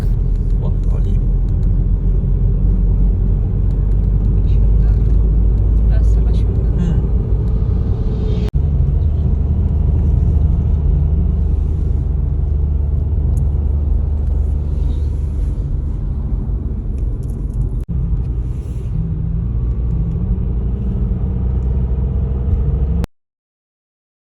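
A car climbs a mountain road, its steady engine rumble and road noise droning loudly and close throughout, with a couple of brief knocks before the sound cuts off abruptly at the end.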